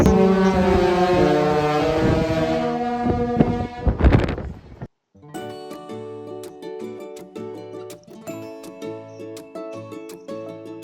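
A deep cruise ship horn on the Disney Wonder blasts loudly for several seconds at sail-away, then stops, followed by a sustained, lower, steady horn tone with a rumbling undertone.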